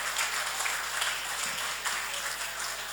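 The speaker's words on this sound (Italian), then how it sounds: "un grande applauso anche per loro" Applause from the audience at a football awards gala in Sardinia, steady and moderately loud clapping from a sizeable crowd across the whole stretch.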